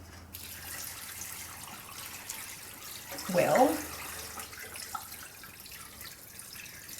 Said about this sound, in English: now we're just going to add enough water